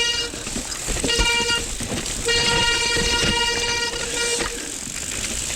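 Disc brakes on a Davici E Troy LT electric mountain bike give a loud, steady squeal of stacked high tones. It comes in two drawn-out bursts over a rough rolling trail noise, with no talk.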